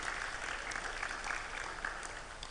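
An audience at the International Publishers Congress 2022 applauds a lecturer from the Institute of Technology Bandung, Indonesia, with steady, moderately quiet clapping that holds evenly through the short stretch.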